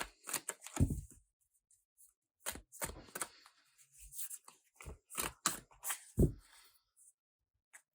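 Tarot cards from a new, very bendy deck are shuffled up close in quick riffling bursts with brief pauses, crisp papery flutters and soft taps.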